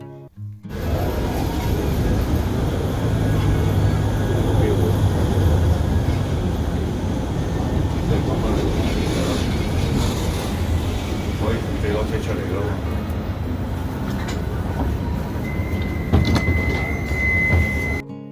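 A tram pulls in at MediaCity UK with a sustained heavy rolling rumble and a brief high squeal near the end. The sound stays close and loud throughout, with people talking over it.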